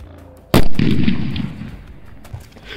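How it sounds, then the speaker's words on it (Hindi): A single loud, sharp Diwali firecracker bang close by, followed by a rumbling decay that fades into quieter ambient noise. "काफी तेज धमाका था"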